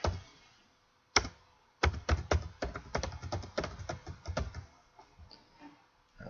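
A computer keyboard being used to type a file name for saving an image: a single tap, then a quick run of close, crisp keystrokes that tails off into a few scattered taps.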